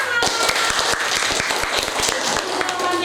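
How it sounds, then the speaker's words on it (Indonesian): A classroom of students applauds together during a school lesson, a dense, steady patter of many hands clapping close by for the full length, with faint voices mixed underneath. "Bagus, tepuk tangan."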